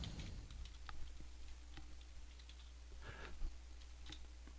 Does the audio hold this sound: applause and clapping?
no